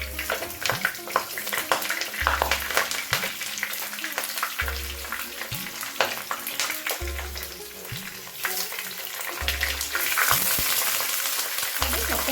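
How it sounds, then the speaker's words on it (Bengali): Eggplant pieces frying in hot oil for a Bengali pabda fish and eggplant jhal: a loud, continuous close sizzle broken by repeated low thumps and scraping as the pieces are turned. "এবার চলুন বেগুনটা ভেজে নেব।"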